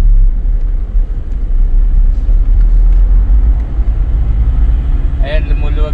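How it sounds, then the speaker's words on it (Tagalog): Road traffic on Ortigas Avenue in Manila, heard as a loud, steady low rumble of engines and tyres that fills the whole stretch, with a brief higher tone near the end. "Ayan, medyo traffic nga lang."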